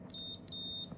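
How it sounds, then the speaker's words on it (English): A multimeter set to diode or continuity mode gives a steady, high electronic beep, sounding in two stretches with a short break, close and clear over faint background hum. "So there I am, I'm in beep mode."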